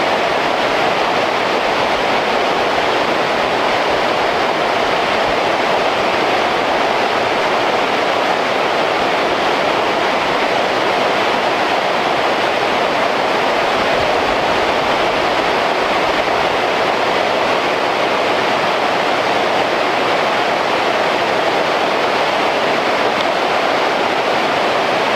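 Steady broadband rush of the Cispus river flowing over rocks, a continuous loud roar of water with no voices, holding constant for the whole stretch.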